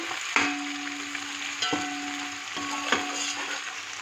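Chopped garlic and onions frying in a pan in a home kitchen, a steady close sizzle broken by a few sharp clinks and scrapes of stirring.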